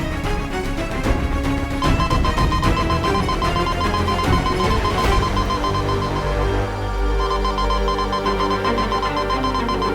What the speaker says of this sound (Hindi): ये तो वीर लोग का सिक्योरिटी अलार्म है।